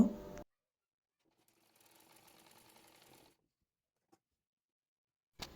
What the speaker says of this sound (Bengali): পেছন পাটের কাপড়টির ওপরে গলাপট্টির কাপড়টি রেখে সেলাই করে নেব।